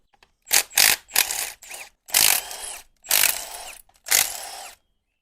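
A power tool such as an impact driver or drill removing bolts from a Honda rammer, seven short whirring bursts separated by brief pauses, loud and close with no talking.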